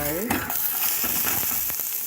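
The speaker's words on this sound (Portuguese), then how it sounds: "Então tem que ter o processo de fritura." Food frying in hot fat in a pan, a steady dense sizzle with faint crackles and stirring scrapes, close and fairly loud, with no talking.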